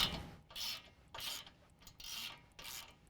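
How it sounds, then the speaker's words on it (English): A wrench loosening the 21mm lower ball joint nut on a 2015-17 Ford F-150 4WD, four or five quick rasping ratchet strokes in a steady rhythm, close and fairly quiet, with no talk. "On the lower ball joint, there's a 21mm nut, and we're just going to loosen that as well."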